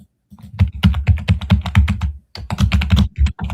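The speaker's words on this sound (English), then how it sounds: "Noise from the typing as well." Rapid clacking of computer keyboard keys, a steady run of close, loud keystrokes with a short pause midway, no talking.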